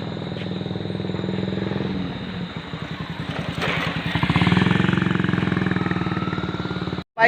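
A Royal Enfield Bullet motorcycle at a Vishwakarma Puja gathering runs with a steady, loud thumping idle that settles into a rapid even beat, close by and alone, cutting off abruptly at the end.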